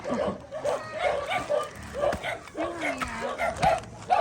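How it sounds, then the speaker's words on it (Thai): A dog yips and barks in short repeated bursts in a hillside village, close by and mixed in with people talking. "อะไรเห่าอ่ะเห่าคนสวย"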